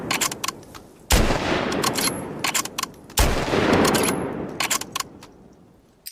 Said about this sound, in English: That should be Tommy's rifle